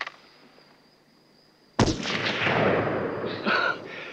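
A rifle gunshot at an army firing range in a 1979 war film cracks out sharply after a quiet start. A long, rolling echo follows and fades over the remaining seconds.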